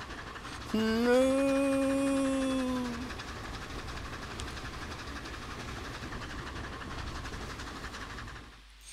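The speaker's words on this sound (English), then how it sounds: "Trains on an awesome bridge." Corris No. 7 narrow gauge steam locomotive crosses a bridge among trees, its whistle sounding loud for about two seconds before fading into steady rolling train noise, with one brief spoken word.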